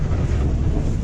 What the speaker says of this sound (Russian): Народ, я такого ветра никогда в жизни не испытывал.